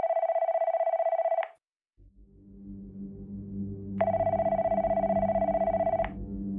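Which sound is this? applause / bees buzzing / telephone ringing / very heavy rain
telephone ringing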